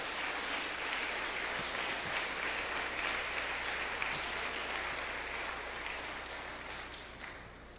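A church congregation claps in a dense, moderately distant wash of applause that slowly fades toward the end.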